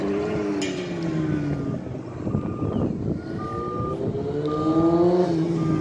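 Race cars and motorcycles sweep past on the Ricardo Tormo circuit in Cheste, engines whining and rising and falling in pitch at a distance, several passes overlapping one after another.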